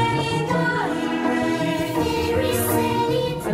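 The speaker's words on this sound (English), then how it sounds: "So there's a few bars where the choir has a very broad type of phrasing as well," Choir singing broad, sustained phrases within a spooky film score, with rich layered harmonies held steadily at a constant loudness, full and close, with no talking.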